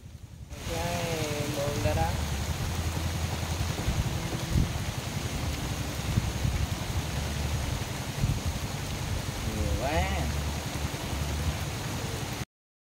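Rain falls steadily on a melon-field hut sheltering two people during a rice-harvest rat-trapping trip, a constant hiss throughout, with a voice and faint whistling tones in the mix.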